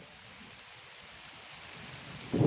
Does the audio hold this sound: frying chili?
no